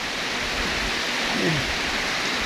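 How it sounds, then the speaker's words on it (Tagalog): Steady, heavy rain hissing loudly and continuously on a farm field, a dense wash of noise with no gaps. "Lakas ng ulan."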